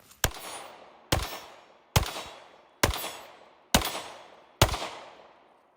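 Six loud, sharp shots from a Ruger 57 pistol in 5.7 caliber, fired one at a time at a steady pace about a second apart, each ringing out briefly before the next.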